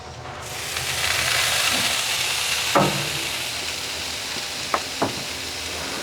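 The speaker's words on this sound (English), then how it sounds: "That's the sound of the sweet goodness." Meat sizzles loudly on a hot grill in a continuous hiss, with a few sharp clicks and taps of tongs close by.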